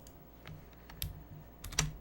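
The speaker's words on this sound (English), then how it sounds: "I'll hit H on the keyboard" Several crisp key presses on a computer keyboard, sharp isolated clicks spaced irregularly over two seconds, close and quiet with no talking.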